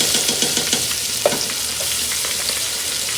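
Sliced onion hitting hot oil with cardamom and cinnamon for a chicken roast, a loud continuous sizzle broken by quick stirring scrapes and light clacks of a utensil against the pan.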